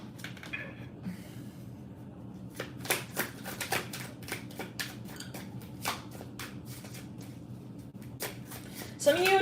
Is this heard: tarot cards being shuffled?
yes